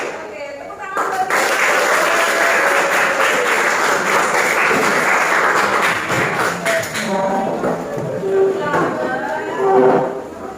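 Classroom applause from students during a lesson: a dense burst of clapping lasting about six seconds, then thinning out as a speaking voice carries on over the fading claps.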